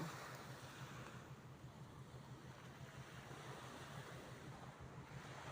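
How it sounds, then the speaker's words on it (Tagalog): Sea waves rolling along a Batangas coastline, a steady broadband wash with wind buffeting the microphone, continuous and fairly close, with no talking. "Ganda ng alon ng dagat."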